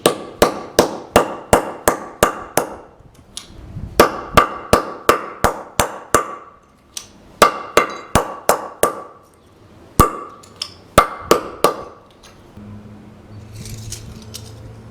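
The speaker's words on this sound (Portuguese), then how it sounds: "Para bater as tampinhas nós vamos fazer isso lá fora, em cima de uma madeira" Metal bottle caps hammered flat on a wooden board outdoors for a homemade pandeiro, heard as bursts of rapid, evenly spaced sharp metallic blows in several runs with brief pauses, loud and close, with no talk.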